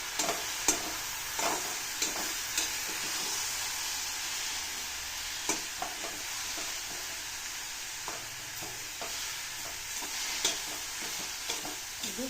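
Carrot halwa with milk cream simmers and sizzles steadily in a pan, broken by occasional soft stirring scrapes and taps from close by.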